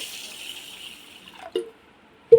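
Water runs and splashes for over a second, then a couple of short knocks and a sloshing splash as moong dal is rinsed in a bowl.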